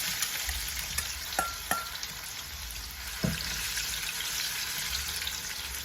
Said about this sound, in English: And I'll start frying my plantain.